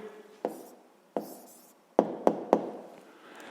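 A pen writing an answer on paper during a sixth-grade math exercise, several short scratchy strokes and taps, close and fairly quiet, with no talk.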